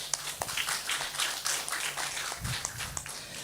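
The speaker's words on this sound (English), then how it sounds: "Please give a round of applause." Light, scattered clapping from a conference audience welcoming a keynote speaker, faint and fairly distant, with uneven individual claps over a soft room hum.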